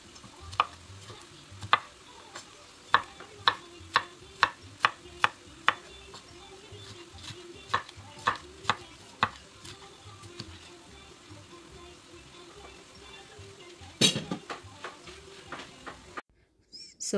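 Capsicum stir-fried in a pan gives a soft, faint sizzle beneath a regular series of sharp spatula taps and scrapes against the pan, with a louder clatter near the end.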